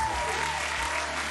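A short applause sound effect plays on a forex trading livestream, a steady wash of clapping heard at moderate volume and alone.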